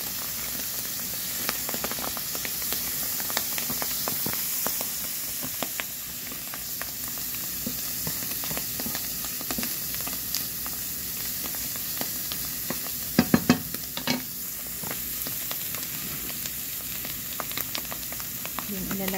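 Garlic frying in a pan, a continuous close sizzle with scattered crackles and a few louder spatula taps, no voices.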